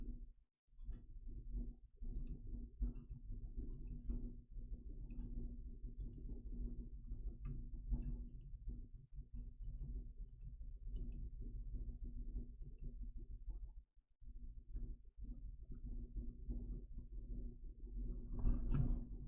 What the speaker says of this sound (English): Sorry if you hear my typing, I'm messaging people on Discord.